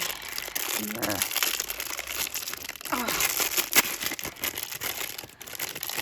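Plastic toy packaging crinkles and crackles as it is handled during an unboxing, with irregular bursts of crumpling over several seconds, close to the microphone and mixed with a voice talking.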